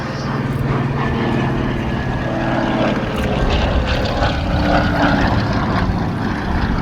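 A Lockheed Model 12A cabin monoplane flies nearby at Duxford, its propeller engines giving off a loud, steady droning roar throughout.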